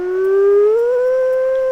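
A wolf howl in the WolfQuest video game, one long sustained tonal wail that rises gradually in pitch and holds steady, loud and clear with no talk.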